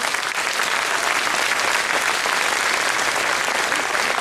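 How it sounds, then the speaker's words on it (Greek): An audience in Thessaloniki bursts into warm applause during a tribute concert, a dense, loud and sustained wall of clapping from many hands that carries evenly through the whole stretch with no talk over it. "Δώστε το πιο ζεστό χειροκρότημά σας σε αυτή την πόλη"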